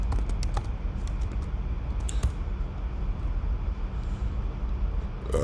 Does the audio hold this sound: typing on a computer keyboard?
yes